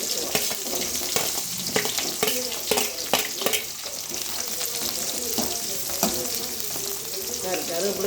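Onions and seasonings fry in hot oil in a kitchen pan for a Tamil fenugreek kuzhambu, a steady close crackling sizzle with scattered pops and stirring clatter, alone.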